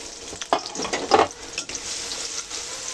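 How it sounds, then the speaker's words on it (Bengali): Sliced onions sizzle in hot oil in a home kitchen pan, a soft crackling hiss with a few louder bursts as they are stirred, fairly close and without talk. "এবার তেলটা গরম হলে আমি পেঁয়াজটা হালকা একটু ভেজে নেব"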